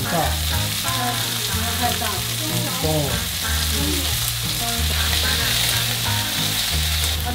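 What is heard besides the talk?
frying shrimp heads in a pan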